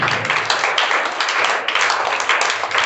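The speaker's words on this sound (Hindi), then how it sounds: "इसके लिए 6 to 8 के बच्चे ताली बजाएंगे।" Schoolchildren, a group of six- to eighth-graders at a general-knowledge quiz, applaud together in a steady, dense burst of clapping that fills the whole moment, loud and close.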